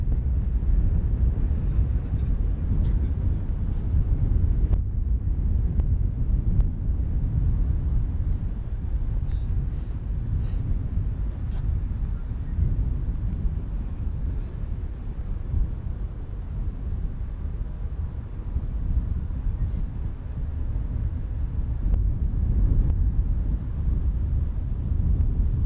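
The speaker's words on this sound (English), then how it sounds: "next one up will be Airbus" An Airbus A319 airliner at Schiphol Airport on a windy day, heard as a steady low engine rumble and roar that stays loud and constant for the whole stretch, mixed with wind noise.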